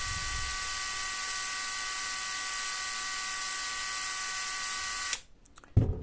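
An MLHY 20V cordless drill motor spins at its lowest RPM, giving a steady electric buzz with a high whine that holds evenly for about five seconds and then cuts off, followed by a few faint clicks.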